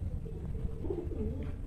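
Pigeons in a loft coo softly with low, rounded calls over a dull background hum, nearby but not loud.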